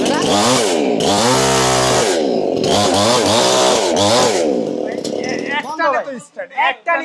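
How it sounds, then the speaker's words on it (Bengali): A petrol chainsaw with a 24-inch bar starts on one pull and roars close and loud, its engine revving up and down repeatedly, with someone talking over it as it settles. "আমার যে ব্র্যান্ডের মেশিন আছে এগুলো এক টানে স্টার্ট"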